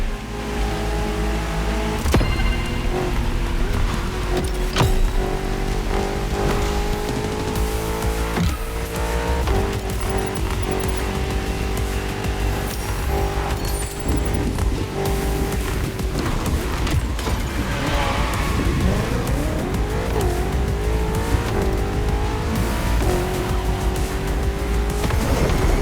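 Ferrari F40 and F50 supercars roar through a racing video game, loud engines revving and shifting continuously with rising and falling pitch, tire squeal and passing whooshes layered throughout.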